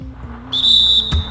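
A referee's whistle in the basketball video game NBA 2K21 blows one sharp, loud, steady blast for a foul, cut off by a brief thump.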